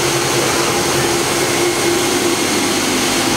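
A Hitachi Seiki HT-20SIII CNC turning center spindle running at about 2800 RPM, a steady, loud, even machine whir with a faint constant tone, heard from a few feet away without interruption.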